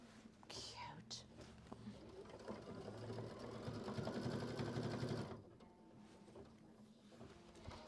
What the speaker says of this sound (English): she's going to sew through that, and then we'll come back over to Mary Lou when Kathleen's done sewing through that